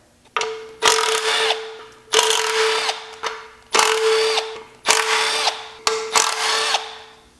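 A power tool spins off the 10mm nuts on the stamped steel oil pan of a Chrysler 3.2/3.6 Pentastar engine, running in six loud, close bursts of about a second each with brief pauses between.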